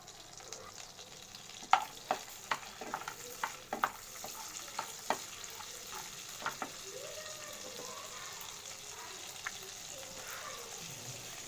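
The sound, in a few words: masala frying in melted butter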